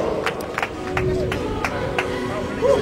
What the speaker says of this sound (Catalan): Aquest aplaudiment va per tu, sí senyor.